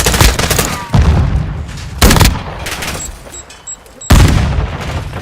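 Grenade explosions and gunfire in Call of Duty online play, several loud sharp blasts roughly a second apart with rattling shots and debris between them, close and harsh, with no talk over them.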